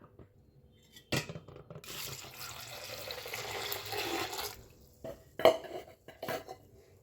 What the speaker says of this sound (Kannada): ಈಗ ಇದಕ್ಕೆ ಸ್ವಲ್ಪ ನೀರು ಹಾಕ್ಕೊಬಿಡೋಣ.